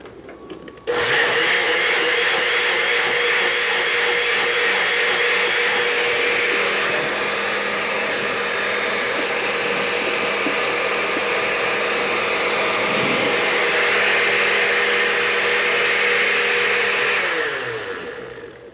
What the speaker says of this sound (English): So this will be placed into a blender.